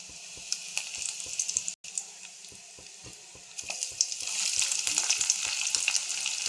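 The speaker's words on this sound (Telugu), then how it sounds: "ఒక ఎండుమిర్చి వేసాను" A dried red chilli sizzles in hot tempering oil with seeds, giving a steady close crackle punctuated by regular light ticks and pops, growing louder toward the end; no talking.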